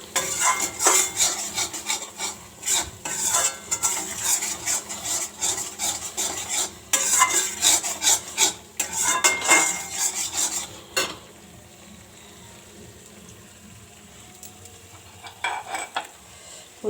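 A spoon stirs a paneer curry of potato, cauliflower and makhana in a kadai, scraping and clinking against the pan over a sizzle, loud and busy for about eleven seconds before quieting to a faint simmer.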